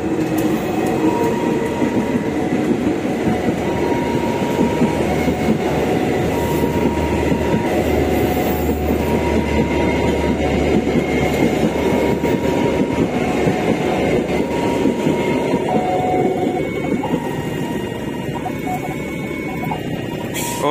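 A new full Argo Dwipangga passenger trainset, being delivered to Surabaya near Mojokerto station, rolls past with a loud, steady rumble and rhythmic wheel clatter that lasts throughout, easing slightly near the end.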